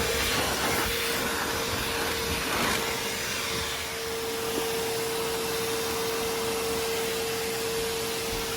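Bissell Little Green portable cleaner spraying and sucking on a dirty cop car seat, giving a steady close whine with a constant hum and airy hiss.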